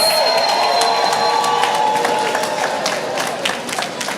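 A large crowd at a political platform launch breaks into sustained, loud applause mixed with cheers and whoops, a dense wash of clapping that carries on without pause.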